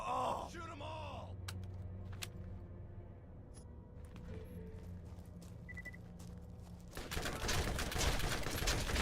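Sustained gunfire in the Borderlands shooter, a steady background of rattling shots under game sounds and a brief voice at the start, swelling into a louder, denser burst at the end.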